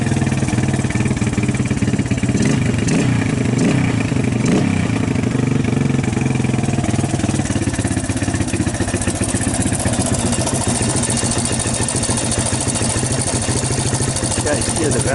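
A Suzuki LT230 ATV engine idles close up with a busy, steady mechanical chatter and a ticking valve noise throughout, while someone talks over it.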